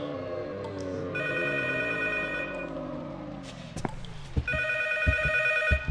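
A phone rings in the horror video game P.T. Silent Hills, with repeated electronic trills over a low droning ambience and a few sharp knocks near the end.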